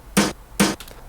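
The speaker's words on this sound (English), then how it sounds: "if I remove the distortion and the delay effect I got on it, it sounds like this" Two dry snare drum hits with no distortion or delay, sharp and close with short decay, followed by faint softer ticks and no talking.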